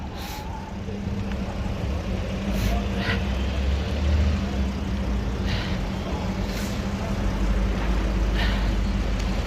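Police vehicles sit idling with engines running outside Manchester Piccadilly station, a steady low engine rumble that fills the whole stretch, with faint street noise and occasional brief higher hisses above it.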